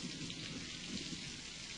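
A summer downpour pours steadily, a dense even hiss of heavy rain over open ground with no voices.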